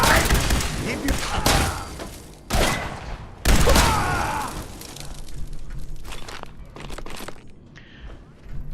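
Laser rifle fire in Fallout 4, a burst of loud crackling energy shots and impacts, some overlapping, with thuds and shattering bursts, then quieter scattered hits toward the end.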